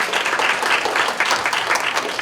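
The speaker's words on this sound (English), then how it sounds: "give a huge round of applause to them" An audience at a spelling bee championship award ceremony gives loud, sustained applause, a dense wash of clapping from many hands that carries on without a break.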